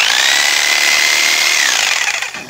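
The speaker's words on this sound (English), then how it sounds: "I use this reciprocating saw to sever the roots." A reciprocating saw with a roughly 12-inch blade rips steadily through the roots of a white pine, a loud, close, continuous buzzing cut that eases off at the end.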